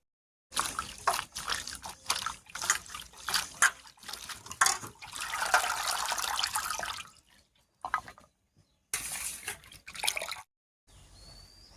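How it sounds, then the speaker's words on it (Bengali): Water runs and splashes in bursts as bottle gourd greens are rinsed, stopping and starting with short gaps of quiet between them. "শাকটা বেছে নিয়েছি, এবার পরিষ্কার করে ধুয়ে নেবো জল পাল্টে পাল্টে"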